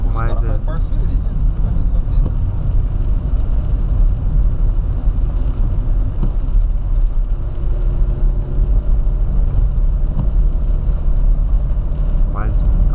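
A Fiat Palio 1.8 R engine idles smoothly with a steady low rumble and no knocking, heard close up under continuous talk throughout.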